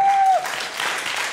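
A crowd claps steadily, a dense wash of applause that begins under a brief sustained tone and continues at even loudness.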